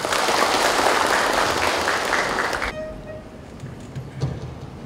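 Audience applause at a district congress ceremony, a dense burst of clapping that fades out after a few seconds, leaving quieter room sound with scattered claps.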